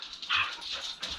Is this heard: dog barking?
yes